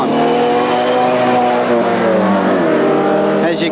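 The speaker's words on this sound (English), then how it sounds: "When the two cars get a green light, that's when they can leave," Two drag racing cars, one a little four-cylinder Cooper S, launch off the line at a drag strip, engines loud and sustained with a rising, revving pitch as they pull away.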